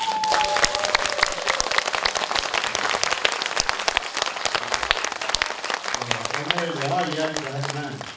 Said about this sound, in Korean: 박수만 많이 쳐달라.